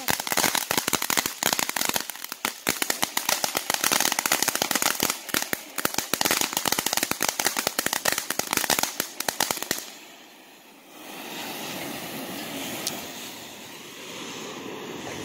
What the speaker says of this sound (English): Are you enjoying the fireworks?